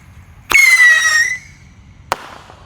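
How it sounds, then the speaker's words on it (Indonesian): A Pirotor rocket firework ignites with a sharp crack and a loud rising whistle that streaks off for most of a second, followed by a single distant pop. "yang kita nyalakan di sini ada roket Pirotor"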